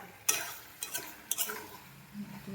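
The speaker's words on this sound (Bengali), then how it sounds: "মাংসটা এখন খুব ভালো করে কষবো" Goat meat stirred and fried in a pan, with a few quiet scrapes and clinks of a spoon against the pan over a faint, low sizzle.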